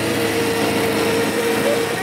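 The engine of a stunt motorcycle hums in a steady, high-pitched drone that stays loud and even throughout, close by, with no voices over it.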